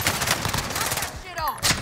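Gunfire rattles in the Warzone video game, with dense, loud bursts of shots that continue nearly without pause and echo briefly, like distant battlefield fire.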